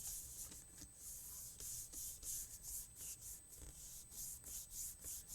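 Faint rhythmic rubbing strokes of paper being pressed hard onto bumpy card during gluing, a dry scraping rasp repeating in quick even passes with no talking.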